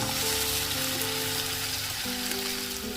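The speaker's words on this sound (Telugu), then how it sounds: "అదేవిధంగా మిగిలిన బెండకాయలు కూడా వేసేసి వేయించుకున్నామండి" Okra fries in oil in a pan with a constant close sizzle, dense and even over the whole stretch, under a soft musical drone with no speech.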